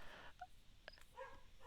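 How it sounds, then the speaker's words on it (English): Faint, distant dog barks in a house, a few short yips and woofs scattered irregularly over a quiet background. "my dog will stop barking?"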